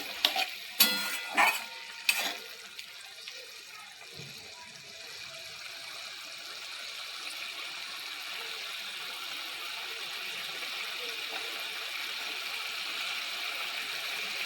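A pan of sour curry with small fish and mandar flowers is stirred with a few sharp utensil knocks at the start, then settles into a steady, soft simmering hiss.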